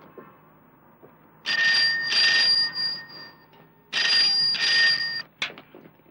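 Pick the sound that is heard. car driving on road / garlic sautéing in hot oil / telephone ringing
telephone ringing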